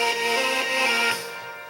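A synth note from the FL Studio Mobile mini synth repeats in a steady, sustained tone that fades slightly toward the end, heard alone without talk.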